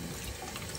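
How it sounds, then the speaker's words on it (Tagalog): Salted eggs being rinsed in a generous amount of water, giving a steady close splashing and trickling wash that runs without a break and with no voices. "binabanlawan ko sa maraming na tubig"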